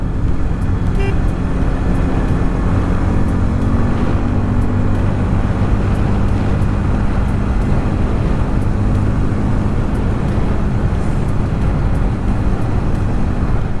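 A motorbike ridden on a road with clusters of speed breakers near a pilgrimage site gives a continuous engine and road rumble with wind noise, steady and close throughout.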